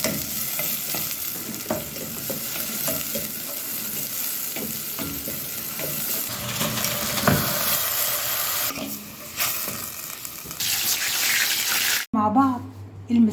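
Cut eggplant, lightly seasoned with salt, fries in a little oil in a pan with a loud, continuous sizzle and occasional stirring clatter. It ends in a sudden sharp burst of spitting.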